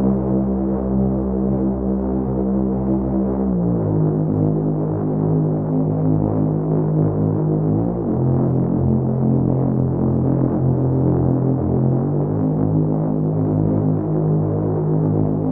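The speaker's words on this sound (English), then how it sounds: "It's the Cut Me Real Deep Wobble preset" Deep, throbbing wobble bass from the Omnisphere preset Cut Me Real Deep Wobble, played dry as sustained low notes that pulse steadily and shift pitch a few times, loud and alone with no voices.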